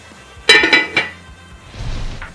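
A metal lid clanks and clinks down onto a pot of simmering pasta sauce, several sharp close knocks in quick succession, followed by a soft rustle.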